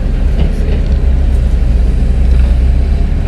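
Ten-wheel trucks arriving at an airport runway construction site: a steady, loud low engine rumble and rolling drone with no clear breaks, heavy vehicles moving close by.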